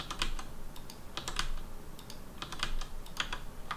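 Computer keyboard keys are pressed in quick, uneven bursts while a 3D modelling program is used, with crisp, close clicks and short pauses between groups and no talking.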